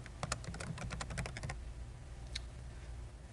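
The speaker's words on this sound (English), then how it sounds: "type your message" Rapid typing on a computer keyboard, a quick run of clicky keystrokes for about a second and a half, then one more lone keypress after a pause, close and clear over a low hum.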